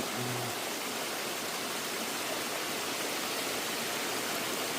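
A steady, broad roar of rushing water fills the clip, loud and close, from a waterfall on the Appalachian Trail near Garfield Ridge pouring continuously.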